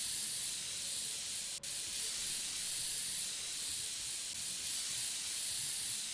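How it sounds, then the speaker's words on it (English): Compressed air sprayed to clean a computer, a steady close hiss lasting several seconds with one momentary break, no voices over it. "tools, compressed air."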